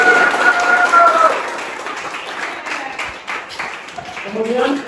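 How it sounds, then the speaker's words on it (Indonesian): Students in a high school class on pre-Islamic Arab civilization clap for a classmate, a scattered burst of applause following a teacher's brief speech and fading as talking resumes. "Beri tepuk tangan dulu untuk Mafta."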